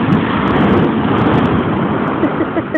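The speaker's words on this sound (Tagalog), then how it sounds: "Ayun ang alon sa likod natin" Pacific Ocean surf at a beach, a steady loud wash of breaking waves with heavy wind rumble on the microphone, continuous throughout the short stretch.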